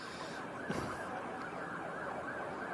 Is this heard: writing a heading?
no